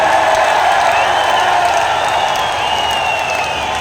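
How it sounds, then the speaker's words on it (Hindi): A large crowd at a political rally in Hisar, Haryana, claps and cheers in a steady, dense roar of applause that holds at full loudness throughout, with faint voices mixed into the crowd noise. "एक जोरदार तालियों के साथ।"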